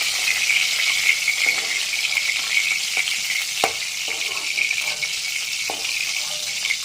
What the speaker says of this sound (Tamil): அதனால் இதை நல்லா முதல்ல வறுத்து எடுத்துருவோம்